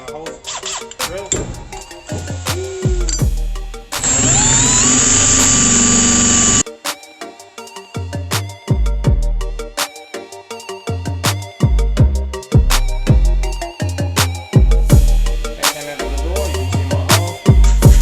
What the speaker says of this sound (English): Put it in my hole drill.